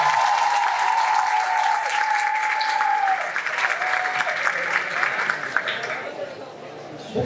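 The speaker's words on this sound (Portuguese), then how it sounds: "pode aplaudir" Audience applause at a church congress, a large crowd clapping continuously with chatter underneath, fading slightly toward the end.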